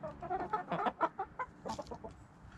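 Chickens cluck inside a henhouse, a close, busy cluster of throaty clucks and murmuring calls overlapping in quick succession, with a louder squawk near the end and no talking.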